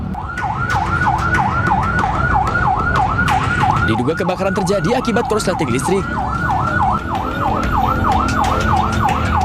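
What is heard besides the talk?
fire engine sirens at a shop fire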